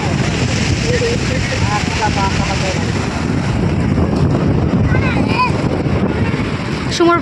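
Strong sea waves and wind on the beach at Gangasagar make a constant, loud, rushing roar, with voices and faint chirps scattered through it.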